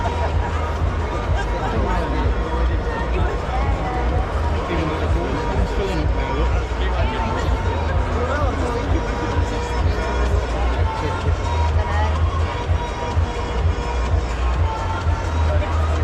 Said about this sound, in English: I'm not used to crowds like this